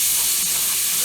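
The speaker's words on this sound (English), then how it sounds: "We're just gonna saute this at least for about a minute." About a quarter cup of minced onion sautés in a pan, giving a brief, steady, close frying hiss with no breaks or talk.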